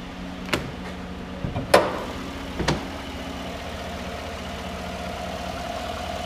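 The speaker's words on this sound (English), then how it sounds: "Here's that nice V8. Run nice and smooth, nice and strong, plenty of power." 2014 Chevrolet Silverado Z71 V8 idling smoothly under the open hood, a steady low hum with a few brief knocks early on and no talk.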